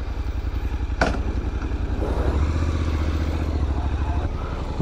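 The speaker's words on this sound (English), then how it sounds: "I will now park the motorcycle inside the closed garage, inside the closed space" Motorcycle engine idling steadily inside a closed garage, a low even throb with a single sharp clatter early on, loud and close, no talk.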